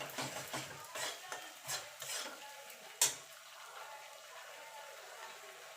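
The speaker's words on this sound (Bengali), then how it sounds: "এবার মশলাটাকে কষিয়ে নেব যতক্ষণ মশলার কাঁচা গন্ধটা চলে না যাচ্ছে আর তেল না ছেড়ে দিচ্ছে।" Spice paste sautéing in oil in a pan for a vegetarian drumstick curry, with soft sizzling and intermittent scraping strokes of a spatula, one sharper clack near the middle, then a quieter steady fry.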